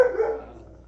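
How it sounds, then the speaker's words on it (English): A single pet dog bark heard indoors, one short sharp yelp that quickly fades. "Now my dog is starting."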